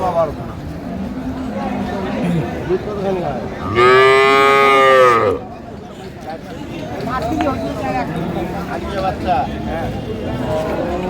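A dairy cow at the Ambari cattle market in Dinajpur lets out one loud, sustained moo lasting over a second, close by, amid a busy background of people talking and general market chatter.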